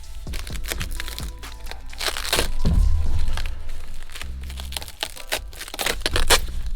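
Packaging for Mazdaspeed side skirts being torn open up close: continuous crinkling, tearing and crackling of plastic and paper wrap, with a heavier rustle and thump partway through.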